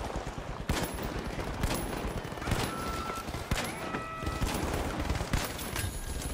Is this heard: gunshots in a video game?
yes